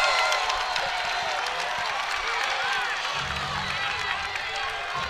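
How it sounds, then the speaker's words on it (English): A college wrestling crowd at a Big Ten dual meet, Nebraska at Illinois, roars and cheers loudly and steadily throughout, a dense wall of voices and clapping with a commentator talking over it. "The crowd is ecstatic."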